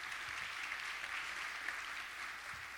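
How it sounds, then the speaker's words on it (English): A warm round of applause from a morning business gathering honoring a welding company partner, a soft, even patter of many hands that sounds faint and somewhat distant. "Can we just give them a real warm round of applause,"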